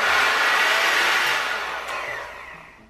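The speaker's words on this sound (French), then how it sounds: "Sèche-cheveux classique." A handheld hair dryer blowing at full power, a loud steady rushing whine close to the mic that tapers off toward the end as it is switched down.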